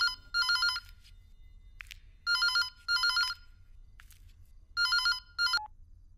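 A telephone rings in a house with an electronic trilling tone, sounding in three pairs of short bursts separated by pauses, clear and moderately loud over quiet background noise.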